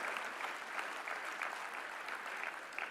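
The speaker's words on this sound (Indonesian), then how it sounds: "Mari kita beri tepuk tangan kepada" An audience in a large parliamentary assembly hall applauds a state speech, steady rhythmic clapping from many people, fairly distant and sustained, with faint voices underneath.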